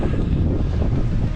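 Strong wind on a mountain climb up Djebel Toubkal, Morocco, buffets the microphone in a steady, loud roar with no letup.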